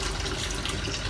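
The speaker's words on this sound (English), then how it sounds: "So I'm just going to stick a bit more hot water in there," Hot water pours into a kitchen sink as a continuous, close, steady rushing splash for about a second, with no voices over it.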